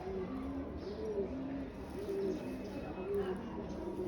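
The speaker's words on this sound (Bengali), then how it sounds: "এটা একটা নর কবুতর।" A male pigeon of an old bloodline coos repeatedly in a rolling, throaty rhythm, close and clear over a soft background hum.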